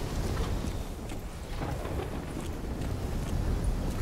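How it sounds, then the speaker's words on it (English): A thunderstorm in the video game Call of Duty: Black Ops III, a dense continuous roar of rain and low rumbling thunder with wind, loud and steady, no voices. "I suggest we hit them before the storm does."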